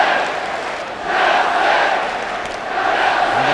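Football crowd at a Chelsea versus Ipswich Town match roars and chants in support of Chelsea, a dense, sustained wall of voices from a large stadium that swells louder partway through and stays steady without commentary.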